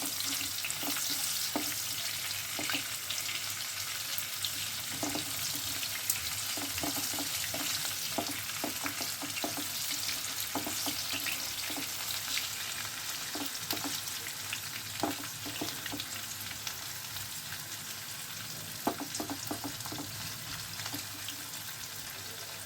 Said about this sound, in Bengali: যে পেঁয়াজটা কুচিয়ে রেখেছিলাম সেই পেঁয়াজটা দিয়ে দিলাম